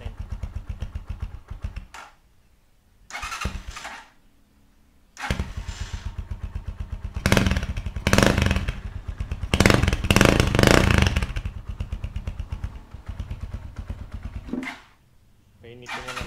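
A Rusi motorcycle fitted with a chicken pipe exhaust idles and then revs hard in repeated loud, raspy bursts, dropping back to a low idle between throttle blips.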